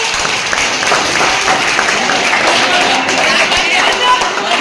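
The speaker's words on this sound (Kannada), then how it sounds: "ಜೋರಾದ ಚಪ್ಪಾಳೆ." Loud, continuous applause from a crowd at a school maths quiz competition in a high school hall, steady and dense throughout with a murmur of voices mixed in.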